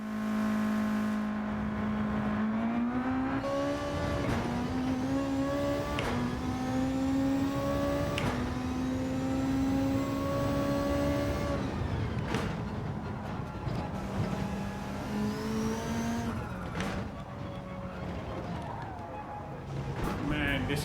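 A race car engine in Gran Turismo 7 revs and shifts repeatedly, its rising whine climbing through gears with brief drops between upshifts, loud and continuous, with someone talking over it.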